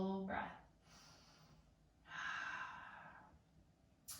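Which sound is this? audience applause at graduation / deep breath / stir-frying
deep breath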